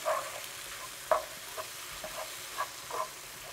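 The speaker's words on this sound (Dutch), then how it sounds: "En dat bakken we allemaal even saampjes op." Chicken frying with sambal oelek in a pan for spicy ayam pedis, a soft steady sizzle broken by several light scraping stirs, close and quiet with no speech.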